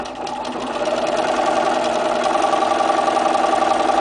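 A sewing machine runs steadily and quickly, stitching down the straight side of a fusible appliqué heart, a close, continuous mechanical hum and rattle with no talking.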